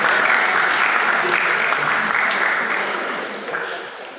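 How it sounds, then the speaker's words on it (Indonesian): An audience at a public lecture with Ridwan Kamil breaks into loud, sustained applause, dense clapping from many hands that stays strong and then tapers slightly toward the end. "tepuk tangan untuk netizen Indonesia"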